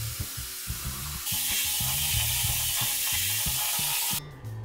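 Belt sander with P120 grade sandpaper sanding floorboards, a loud continuous abrasive hiss over a pulsing motor hum that rises in intensity, then cuts off near the end.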